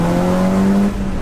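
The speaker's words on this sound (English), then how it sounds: "here the turbo flutter there" A stage 2 tuned 2007 Audi S3 with a manual gearbox, its engine note holding a steady close tone before a brief fluttering turbo release near the end, loud and with no talk.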